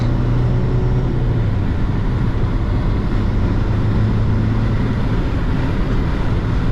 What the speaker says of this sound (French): J'accélère à fond. Allez, ça y est, ça prend 2500 tours.